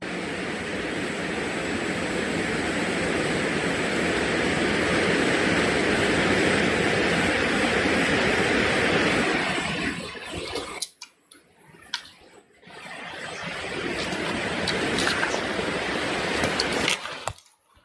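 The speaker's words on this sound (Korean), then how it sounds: "이 저수지의 수로에서 물이 막 폭포수처럼 막 쏟아져 나오는 거예요" Water pours from a reservoir channel like a waterfall in a loud, dense, continuous rush that cuts out abruptly for about two seconds and then resumes.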